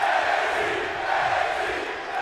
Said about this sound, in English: This crowd fired up